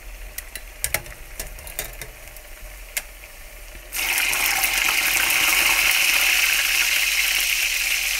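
Loud, steady sizzling hiss of food frying in a pan starts abruptly partway through, after a stretch of quiet clinks and taps.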